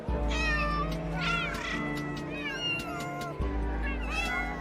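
Siamese and Oriental cats meow from their cages at a cat show, several overlapping high, drawn-out meows and short calls over a steady low background hum.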